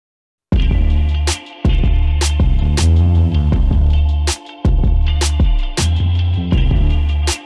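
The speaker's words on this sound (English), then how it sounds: "if we listen to the entire track sounds like this" A beat-driven music track made on a Maschine Plus and an SP-404, heavy with reverb, plays loud and clear in rhythmic chopped phrases with punchy drum hits and gaps between sections.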